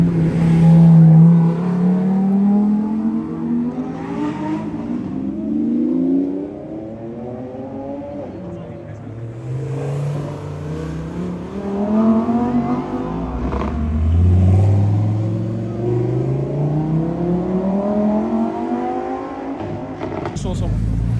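A supercar at the Zoute GP 2025 gathering revs hard and close, its engine note swelling and falling repeatedly across the clip, with people talking throughout.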